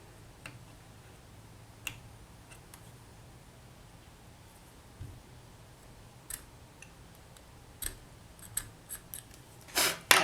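Small scissors snipping a stray hair off polymer clay, faint scattered clicks and snips that grow louder and more frequent toward the end, close in a quiet room.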